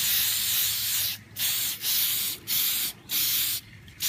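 Four or five short hissing bursts from a shellac spray can, each lasting about half a second, separated by brief pauses, close and fairly loud.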